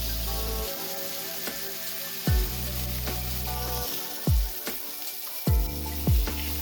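Burger patties for loco moco sizzle steadily in a single skillet, a continuous bright hiss broken by several soft thuds and crackling bursts as they are flipped, with no talking.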